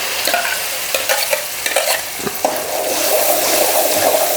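Blended tomato pulp frying and being stirred in a pan for a mango fish curry, with steady sizzling and intermittent scraping strokes of a spoon close by.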